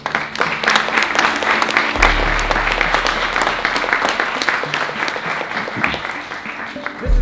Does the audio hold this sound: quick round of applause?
yes